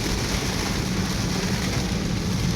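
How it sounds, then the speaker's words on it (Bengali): Heavy monsoon rain pours down on a highway between Chapainawabganj and Rajshahi, a dense, steady, loud roar of rainfall with no letup and no voices. "ভীষণ চমৎকার, ভীষণ বৃষ্টি হচ্ছে"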